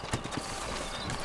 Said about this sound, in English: There's my horse there.